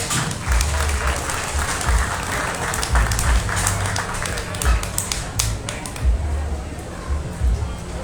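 A crowd applauds the young exhibitors at a county fair swine show, a loud, sustained clatter of clapping with low thumps and rumbles mixed in, ongoing for the whole stretch.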